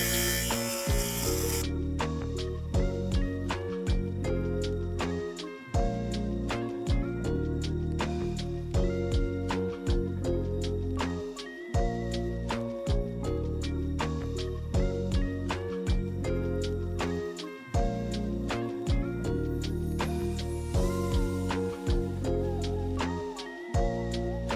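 A fabric shaver buzzes steadily as it shaves the body of a felted bag, a close, loud electric hum broken by brief, regular pauses as the shaver is lifted and repositioned, with no talking.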